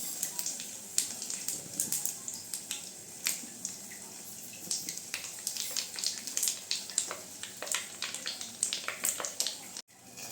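Hot oil with bay leaf and dry chilli sizzles in a pan on a home kitchen stove just after the gas is switched off, giving a steady crackle with sharp popping bursts throughout and a brief dropout near the end.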